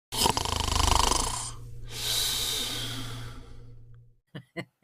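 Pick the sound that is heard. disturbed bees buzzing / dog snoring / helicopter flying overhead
dog snoring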